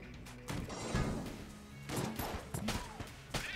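Gunfire in the Enter the Gungeon video game rings out as several loud, punchy bursts spread across the span, with rough crashing impacts between them and no talking.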